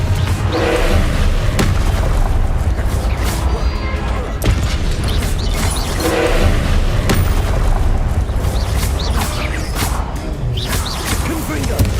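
Confringo spell blasts in Hogwarts Legacy gameplay, heavy booming explosions and crashing debris rolling continuously and loudly, with repeated impacts layered over a dense rumble.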